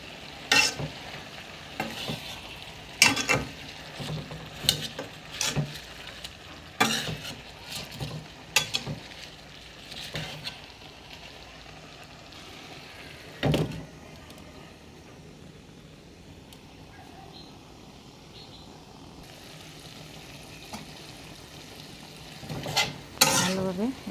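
Taro leaves with chepa dried fish fry in a wok, giving a steady low sizzle broken by repeated sharp scrapes and clanks of stirring that thin out midway and return near the end.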